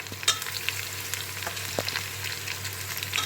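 Ginger paste sautés in a pan for mutton biryani, giving a steady close sizzle with a few sharp spoon scrapes and clicks scattered through it, and no talking.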